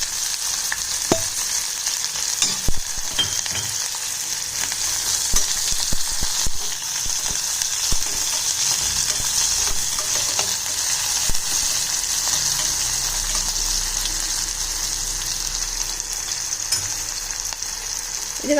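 Chopped big onions with dried red chillies and curry leaves sizzle steadily in hot oil in a pan, a continuous bright frying hiss with occasional stirring clicks, close and alone for the whole stretch.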